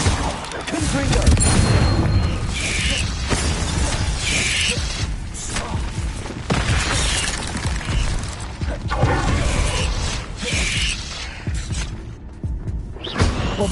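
Blasting-spell explosions from Hogwarts Legacy, dense loud booms and crashes in a busy nonstop spell battle with no gaps.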